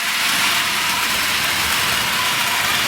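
A Hornby Dublo model train runs round its track, giving a steady, hissing, whirring rush of motor and wheel noise that stays constant and close throughout.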